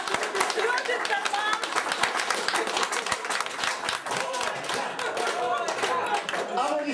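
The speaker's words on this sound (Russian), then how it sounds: "Аплодисменти." Applause from guests at a 60th birthday celebration, dense rapid clapping from a group that carries on steadily throughout, fairly close and lively.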